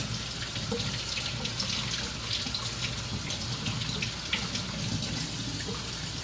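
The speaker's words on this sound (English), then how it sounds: "I don't just rinse off the ice." Tap water runs steadily into a sink, rinsing ice off frozen frankfurters, a continuous close splashing flow with no talking.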